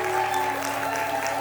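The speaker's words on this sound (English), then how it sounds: "let's give a big round of applause to all our competitors" Crowd applause for competitors at a cookie competition final, a steady wash of clapping at moderate volume, brief and unbroken, with a faint tonal hum beneath.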